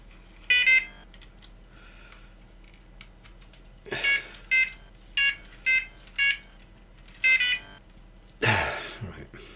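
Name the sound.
NGT digital fishing bite alarm beeping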